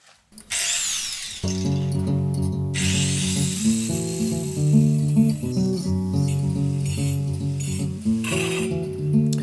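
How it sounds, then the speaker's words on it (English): An angle grinder spins up and whines loudly and continuously while finishing the edges of a shop front, its pitch wavering as the disc bites into the material. "I'm gonna be using my angle grinder."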